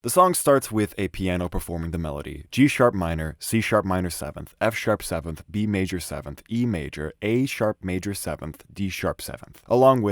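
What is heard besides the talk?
None of the usual background noises is heard.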